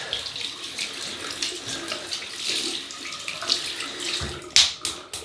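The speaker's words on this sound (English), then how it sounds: "We'll wet the brush." Water runs from a tap to wet a shaving brush at a bathroom sink, a steady close splashing stream with small shifts as the brush moves through it, ending in a brief louder splash.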